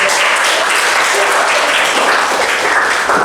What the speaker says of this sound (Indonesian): Oke, kita kasih tepuk tangan.